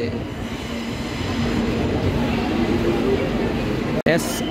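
Sabari Express pulling out of Guntur station, a steady close rumble of rolling rail carriages with a faint tonal hum running throughout and a brief clank near the end, under background voices.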